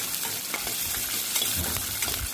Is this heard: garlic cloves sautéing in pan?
yes